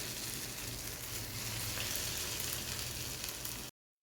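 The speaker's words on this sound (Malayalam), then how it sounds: "ചിക്കൻ പീസസ് എല്ലാം നമ്മൾ എണ്ണയിലേക്ക് ഇട്ട് കൊടുത്തിട്ടുണ്ട്" Chicken pieces frying in coconut oil, a dense continuous sizzle close up with no talking, cutting off abruptly near the end.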